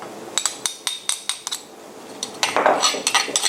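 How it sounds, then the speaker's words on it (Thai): Grilled eggplant is pounded in a mortar for a Thai salad, with a quick run of sharp, close knocks and clinks that grow denser and louder toward the end. "ตำเอาสักพอแหลกก็พอนะฮะ"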